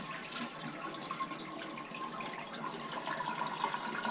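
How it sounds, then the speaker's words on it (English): A toilet is flushed and drains during a DIY installation after the water supply was shut off, giving a steady, close rushing and gurgling of water that carries on evenly throughout. "flush the toilet"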